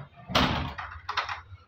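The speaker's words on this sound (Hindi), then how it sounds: "दरवाज़ा बंद।" A house entrance door is shut up close, with a sharp thud followed by a second, lighter knock and rattle a moment later.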